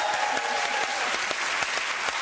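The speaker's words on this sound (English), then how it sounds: "Okay, you don't have to clap." A studio audience at a television chat show claps in a dense, sustained round of applause, close and steady throughout with no break.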